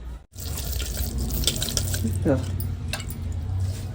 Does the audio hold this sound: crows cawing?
no